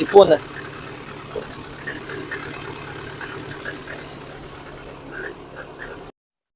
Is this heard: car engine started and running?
yes